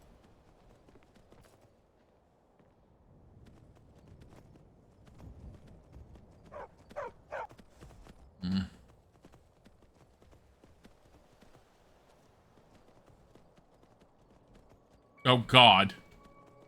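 A horse in the Skyrim video game clip-clops in short bursts of hoofbeats, with a louder clatter near the end, over a quiet background, and a person briefly speaks.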